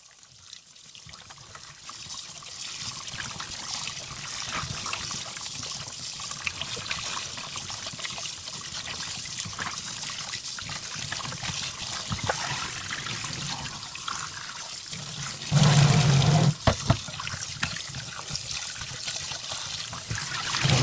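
Raw chicken wings, thawed and slimy, being washed under a running tap: a continuous trickling, splashing stream of water with occasional handling clatter and a louder gush toward the end.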